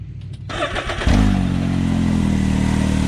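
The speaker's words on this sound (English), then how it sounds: "I'm gonna get somebody to rev it up for me. All right, fire it up." An X3 vehicle engine cranks with clattering for about a second, then fires and settles into a loud, steady, close running drone that holds to the end.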